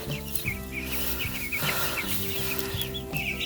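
Small young chickens in a chicken tractor, giving quick, high peeps and cheeps scattered throughout over a steady musical background. The calls are close and clear.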